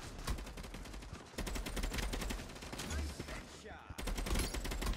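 Rapid gunfire from the video game Quantum League rattles in dense, continuous bursts with brief gaps, loud and close throughout.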